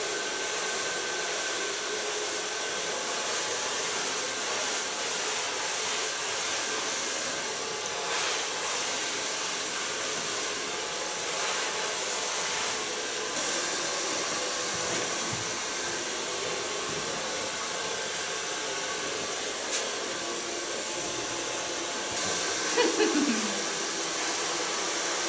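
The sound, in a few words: hair dryer blow drying hair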